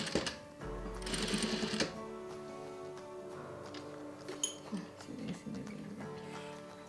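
A sewing machine stitches a shirt sleeve placket, its fast mechanical whirring running in short spurts at moderate distance, with light handling clicks between the runs.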